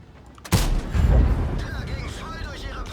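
A Lowe premium tank's cannon fires into a forest in World of Tanks, one loud close blast followed by a lingering rumble and distant impact noise, with someone talking faintly over it.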